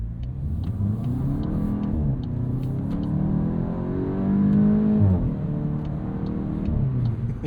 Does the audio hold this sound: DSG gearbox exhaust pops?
yes